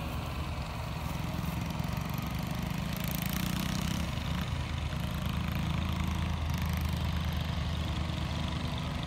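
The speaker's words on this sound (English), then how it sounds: "Papa Joe's mowing it." A distant lawn mower mowing a golf course hums as a low, steady engine drone that carries on unbroken in the background.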